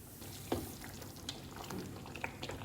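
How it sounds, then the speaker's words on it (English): Eggplant parmigiana pieces gently simmering in a pan, a steady soft bubbling and faint sizzle with occasional small pops, close and continuous with no talk. "Once they come to a gentle simmer, we're going to cover them and just leave them to cook for about 20 to 25 minutes"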